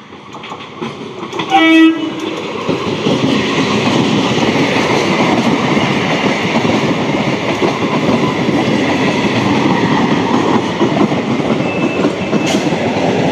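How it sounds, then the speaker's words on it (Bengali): A 12-coach Sealdah–Ranaghat suburban local train sounds a short horn blast. It then passes close by in a loud, continuous rumble of wheels and coaches that lasts to the end. "এবারে আসছে শিয়ালদা রানাঘাট লোকাল"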